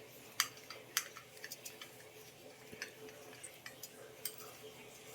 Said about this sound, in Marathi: आता व्यवस्थित हलवून घ्यायचं आहे.